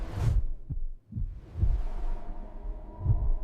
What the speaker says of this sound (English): if we listen closely, we can hear the heartbeat still, steady, patient